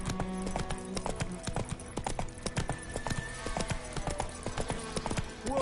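Roach the horse clip-clopping in The Witcher 3, steady hoofbeats on the ground, close and prominent over in-game background sound, with a brief whinny-like sound near the end.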